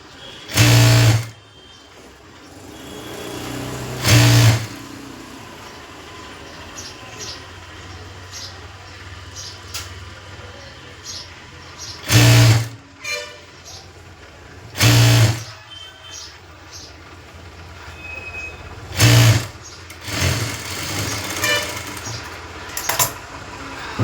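A sewing machine stitches a collar neck blouse in short loud bursts, about six whirring runs of a second or so each, separated by quiet pauses while the fabric is handled, close to the microphone.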